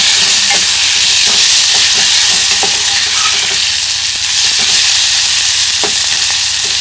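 Vegetable pieces fry loudly in a pan with turmeric, a dense, close, continuous sizzle broken by frequent spoon scrapes and light stirring clicks.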